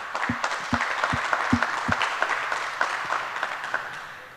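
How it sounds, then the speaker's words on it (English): Warm applause from a conference audience at SHA2017 welcoming a speaker, a moderately loud patter of many hands with a few sharp, close claps standing out early on. "Give him a warm applause."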